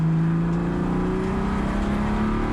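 A touring race car at Sonoma Raceway in a USTCC race, its engine droning loud and close from inside the cockpit as it slows into the final corner, the pitch sliding under steady road and wind noise.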